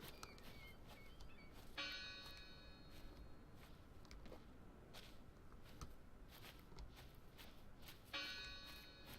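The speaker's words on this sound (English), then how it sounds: "as long as the person keeps on ringing that bell, eventually we will find who it is" Church bell tolling in the video game Draugen, heard faintly at a distance, with two clear strikes a few seconds apart ringing out over a quiet ambience of soft steps and rustling.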